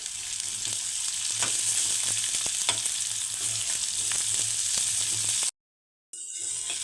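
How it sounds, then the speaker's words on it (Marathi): Two medium onions, finely chopped, fry in a pan for puri bhaji with a continuous close sizzle while a utensil stirs and clicks against the metal; the sound cuts out briefly near the end. "कांदा इथे छान असा मऊ होईपर्यंत आपल्याला परतून घ्यायचा आहे"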